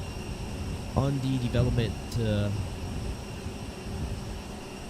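An A320neo airliner in Microsoft Flight Simulator 2020, the fly-by-wire A32NX mod, gives off a steady low engine drone and airy hum on the ground at Fort Lauderdale. Someone talks briefly over the constant background noise.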